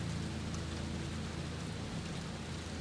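Steady rain pours in a storm, a dense, even wash of noise with a faint low rumble beneath, continuous and unbroken throughout.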